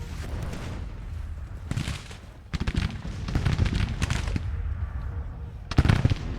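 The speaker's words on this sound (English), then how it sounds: "now my artillery division's firing" Civil War artillery cannons firing in the strategy game Grand Tactician, heard as scattered loud booms and crackling volleys over a rumbling battlefield din, with several sharp bursts rising and fading.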